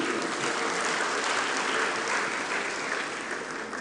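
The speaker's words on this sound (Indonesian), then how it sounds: "Tepuk tangan dulu." Dense applause from an audience at a university faculty graduation (yudisium) ceremony, a steady loud wash of many hands clapping that holds for the whole stretch.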